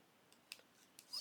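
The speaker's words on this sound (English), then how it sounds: "Use my scissors." Scissors snipping while making shabby chic junk journal tassels, a few quick, quiet crisp cuts spaced across a moment, ending in a slightly louder rustling snip.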